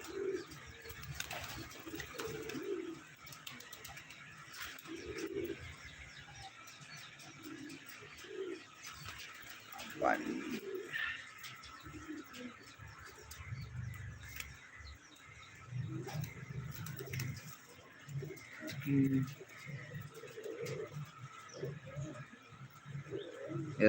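Domestic pigeons coo in soft, low, repeated phrases, several birds overlapping at close range, with occasional faint chirps and light rustling mixed in and no speech.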